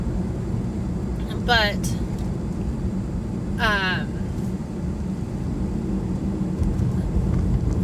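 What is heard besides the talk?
car driving, heard from inside while driving home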